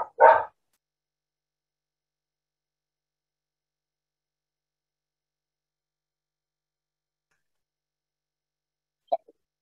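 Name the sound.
dog barking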